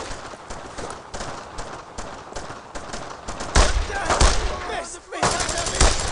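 Dense gunfire rattles through a World War II battle in Brothers in Arms: Road to Hill 30, a continuous loud barrage of rapid shots with a heavier burst midway and shouted voices among the noise.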